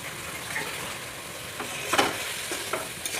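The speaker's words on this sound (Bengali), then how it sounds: "মশলাটা প্রায় কষা হয়ে আসছে।" Spice masala of ginger, garlic, cumin, turmeric and salt fries in a pan for aloo dum, hissing steadily while a spoon stirs and scrapes through it in a few sharp strokes.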